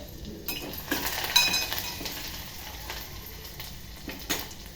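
Curry leaves and ground coconut frying in a pan while an eggplant dish is cooked, giving a steady soft sizzle with a few light utensil clinks and stirring scrapes, no talking.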